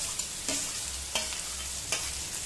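Chopped garlic, onion and green chilli frying in a pan over medium flame, a soft continuous sizzle broken by three or four sharp spatula stirs and scrapes, close by and without speech.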